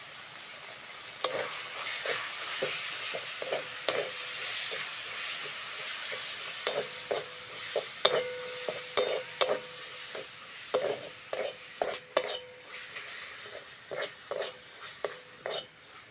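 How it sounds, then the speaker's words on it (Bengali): A spice paste of onion, tomato, chilli powder, turmeric and ginger-garlic paste sautés in a pan with a soft constant sizzle, punctuated by many sharp spatula taps and scrapes against the pan. "মশলাটা ভালো করে কষে নিয়েছি"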